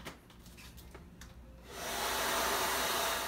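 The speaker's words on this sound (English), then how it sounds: "make sure you're blow drying your hair in all directions" A hair dryer blow-drying hair during a salon haircut makeover; after a quieter opening, a loud, steady close-up whoosh of air switches on and holds to the end.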